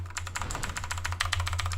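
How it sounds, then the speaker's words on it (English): Rapid typing on a loud mechanical computer keyboard, a dense, steady clatter of keystrokes close up over a low electrical hum, with no talking. "these mechanical ones are so loud"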